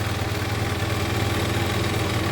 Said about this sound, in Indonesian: Dan motor ini alhamdulillah sudah hidup.